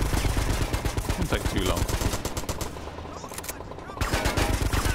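Rapid automatic gunfire from the video game Grand Theft Auto Vice City Stories crackles almost continuously in dense bursts, with someone briefly speaking over the shooting.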